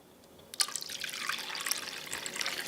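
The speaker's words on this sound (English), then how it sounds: "we can just add the rest of the water" Water is poured from a tap into a bowl of dissolved yeast for French bread, starting abruptly after a brief quiet moment, then a steady, close splashing stream that grows slightly fuller as the bowl fills, with no voices.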